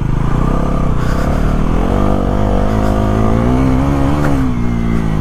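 A Bajaj Pulsar NS400Z motorcycle throttled on mud while its traction control engages, a loud close engine note whose pitch rises and falls as it revs continuously, with no talk.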